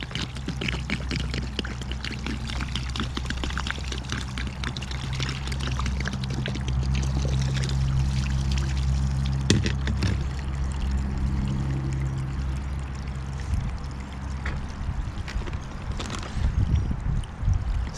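Melted snow water, pumped by hose, pours steadily into a backyard pool at about a gallon every 15 seconds, a continuous close splashing rush lasting throughout without speech.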